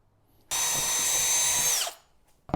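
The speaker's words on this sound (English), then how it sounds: "make 2 holes right there" A power drill bores through 1/4 inch plywood for an RC ramp top, one loud, close, steady whine lasting about a second and a half before winding down, followed by a brief knock.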